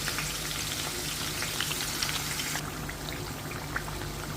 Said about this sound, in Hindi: ये देखिए ओनियन हमने डाल दिया,